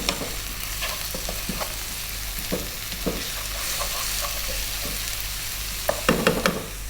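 Ginger garlic paste and salt being stirred in a hot pan for Rajasthani mutton laal maas, with a steady sizzle and intermittent scraping clinks of the spoon throughout.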